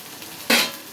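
Potato pieces tipped into a frying pan of onions while cooking potato fry, a short burst of sizzle and clatter landing at once over a faint background hiss.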